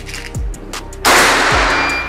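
After a quieter lead-in with faint thumps, one loud close shot from a Mauser OD38 PCP air rifle cracks out, trailed by a long rushing hiss.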